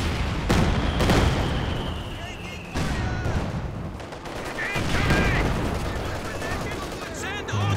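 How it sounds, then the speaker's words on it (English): Gunfire from a WWII strategy video game, with repeated sharp bursts and rattling volleys of machine gun fire mixed with booms across a dense battle soundscape, played over continuous commentary speech. "Machine guns kind of locking out the Allies at the moment."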